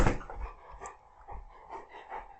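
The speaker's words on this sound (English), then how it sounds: "if you hear heavy panting, that's my dog. He's huge and he pants hard" A huge dog pants heavily in quick, rhythmic breaths, faint and close by in a quiet room.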